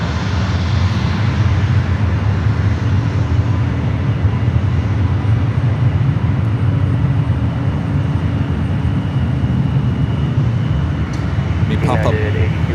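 TAP Air Portugal airliner, flight 238 to Lisbon, departing San Francisco airport, its engines a loud, constant broadband roar held steady throughout, with people talking over it.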